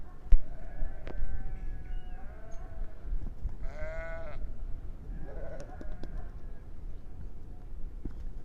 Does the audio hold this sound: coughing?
no